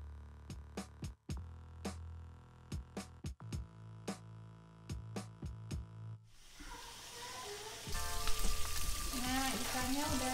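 Milkfish (bandeng) frying in a pan, a steady sizzle that follows a run of sharp clicks and clacks and then swells louder and more crackling toward the end.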